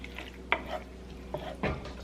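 A spoon stirs beef with tomato sauce in a pan, with a few distinct scraping clunks and a soft wet mixing sound, close and fairly quiet.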